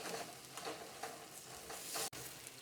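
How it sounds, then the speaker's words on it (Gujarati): Spicy pizza chutney sautéing in oil in a pan while being stirred continuously, a steady soft sizzle broken by repeated scraping strokes of the spoon, close and fairly quiet, with one sharp click near the end. "આ રીતે આપણે એને સતળાવા દઈશું અને સતત તેને આ રીતે હલાવતા રહીશું"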